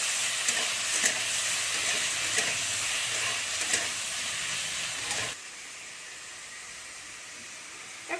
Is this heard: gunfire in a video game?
no